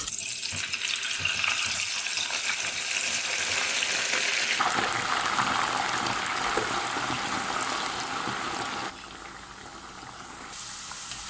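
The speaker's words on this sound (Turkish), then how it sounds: "Şimdi de patateslerin bir kısmını koyup kızartıyorum." Potato pieces fry in hot oil in a pot for a Turkish eggplant kebab dish, a loud, continuous hiss and sizzle that shifts in tone partway through and drops a little near the end, with no talking.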